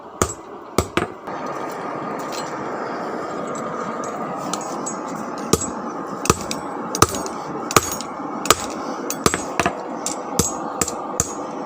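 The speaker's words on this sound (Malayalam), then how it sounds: "ഇനി പഴുത്തിട്ട് വേണം അടിച്ച് ഷേപ്പാക്കാൻ" A hammer strikes a heated piece of metal being forged into an old door lock key, sharp ringing blows in irregular bursts, some in quick pairs, over a steady forge roar.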